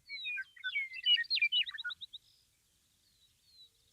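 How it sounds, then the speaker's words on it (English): Meadowlark, horned lark and vesper sparrow singing on open farmland during spring planting: a burst of bright, tumbling warbles and trills for about two seconds, then fainter distant chirps over a quiet background. "Hear the meadowlark, of course, horned lark,"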